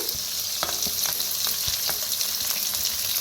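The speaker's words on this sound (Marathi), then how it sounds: "त्याच्यात टाकूया लसूण, कांदा, हिरवी मिरची" Garlic, onion and green chili sizzle in hot oil with whole spices, a steady bright frying hiss broken by a few soft stirring knocks, close and alone.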